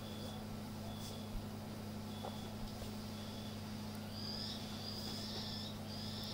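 Small birds call from trees outside a window, a few faint, high chirps scattered over a low steady hum, with some brighter calls toward the end.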